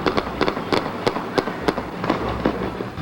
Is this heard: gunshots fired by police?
yes